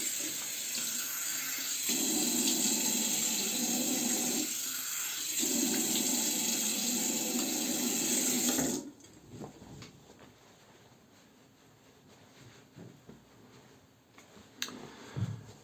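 Water running steadily from a tap for a rinse after shaving, a close hissing stream with surges of splashing for about nine seconds, then stopping, leaving faint handling noises.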